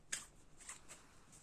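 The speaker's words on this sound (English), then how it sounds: "I'll be shuffling live today." A deck of tarot cards being shuffled by hand, quiet riffling flicks: one sharp burst followed by a few softer ones, close and faint, with no voices.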